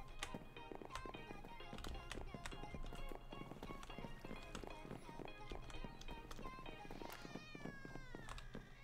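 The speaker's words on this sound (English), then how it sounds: "That's an angry cat in the song." An angry cat meows in a song playing during a Minecraft stream, set in faint music with rhythmic tapping beats, the whole mix quiet and distant.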